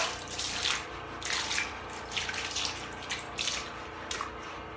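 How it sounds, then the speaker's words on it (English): Plain tap water running and splashing as feet are rinsed, the flow surging and easing in uneven bursts over a continuous watery hiss. "Just rinse with the normal water"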